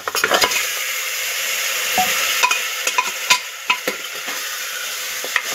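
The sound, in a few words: mutton trotters frying and being stirred in masala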